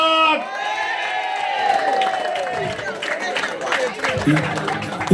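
A crowd at a municipal election campaign conference in Sainte-Rose applauds and cheers. Claps and shouts run throughout and mix with voices and a loud tonal sound that fades early.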